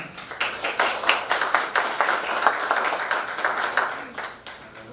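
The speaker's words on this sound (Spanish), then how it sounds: "Agradecemos un fuerte aplauso también." Audience applause at a talk on baptism and the passage from life to conversion, a steady ripple of many hands clapping with distinct individual claps, fairly close and sustained for the whole stretch before fading slightly.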